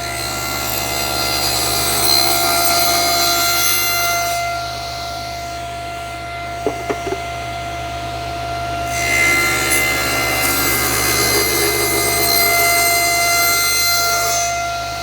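Hand saw cutting through wood to remove a lid, a steady rubbing rasp of strokes that pauses briefly midway with a couple of light knocks, then resumes, close and fairly loud with no talk.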